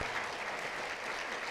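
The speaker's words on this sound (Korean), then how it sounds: "우리 테일라에게도 우리 뜨거운 박수 한번 해주시죠" A congregation at a Sunday church service gives warm applause for the five-member worship team, a steady, dense wash of clapping from many hands that fills the room without a break.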